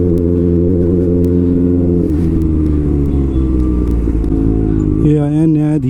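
A motorbike rides slowly through heavy road traffic, its steady engine drone loud and close, with surrounding vehicle rumble and occasional horn-like tones near the end.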